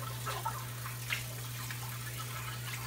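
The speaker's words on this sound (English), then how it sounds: "Rinse out my bowl." Tap water runs while a shaving bowl is rinsed out, a faint trickle with a few soft splashes over a low, steady electrical hum.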